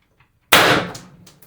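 A single sharp, loud report from an IntruBuster G2 launcher firing an ART 8g S type round, an abrupt crack that rings out and decays over about a second, with no other sound around it.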